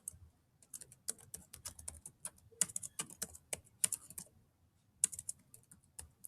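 Keys clatter on a computer keyboard in quick, irregular bursts of close, crisp taps, with brief pauses between runs of typing.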